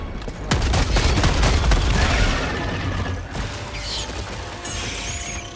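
A heavy weapon is reloaded in the shooter game Helldivers 2, with mechanical clanks and ratcheting rattles heard over dense, loud gunfire and low rumbling explosions.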